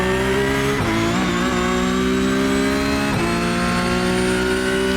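Porsche Cup 992 race car lapping Imola in the iRacing video game, a loud, steady high-pitched engine drone with brief dips and quick throttle blips as the revs shift, alone without talk.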